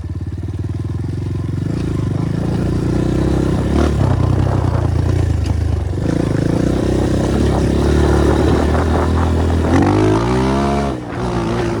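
A loud BSE 250 J3D motorcycle engine rumbling and revving close up, its exhaust note rising and falling steadily for several seconds.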